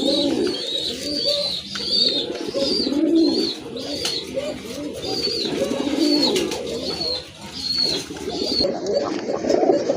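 A pair of orange-coloured Chila pigeons at a pigeon sale coo repeatedly in soft, rolling phrases close by, with other birds murmuring and faint background noise throughout.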